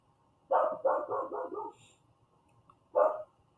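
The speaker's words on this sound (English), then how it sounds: "And my dogs are about to start barking because I think the kids are about to walk in or something." Pet dogs bark in a house: a quick run of four or five barks, a pause, then one more bark. The barks are moderately close with a quiet background.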